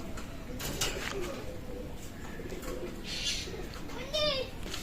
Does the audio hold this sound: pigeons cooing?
yes